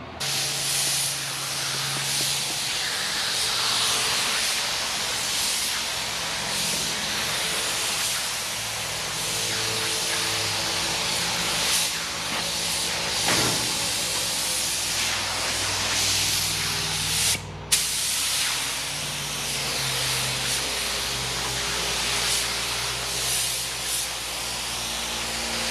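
Spray gun applying paint inside a Chevrolet C20 dually truck cab, a loud continuous airy hiss running steadily for the whole stretch with a brief break near the middle.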